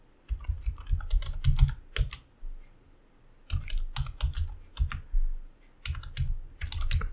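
Close, crisp keystrokes rattle on a computer keyboard as code is typed, coming in quick bursts split by short pauses.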